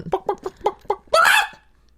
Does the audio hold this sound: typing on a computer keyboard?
no